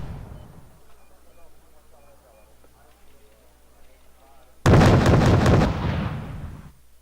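Missile strikes and explosions from naval combat in Wargame: Red Dragon, a Soviet missile exchange: quiet game ambience, then a sudden loud, dense burst of blasts that holds for about two seconds before fading.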